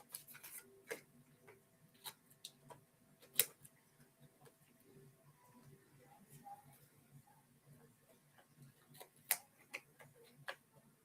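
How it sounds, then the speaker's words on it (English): Scissors snip through washi tape in a handful of faint, sharp clicks, spaced irregularly across a quiet indoor background. "I'm going to very carefully try to cut these off, not have them stick too much to my scissors"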